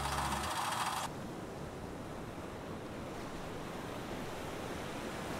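Ocean surf rolls continuously onto a beach in Kyushu, Japan, a steady broad wash of waves with wind noise, after a brief louder burst at the start; no one speaks.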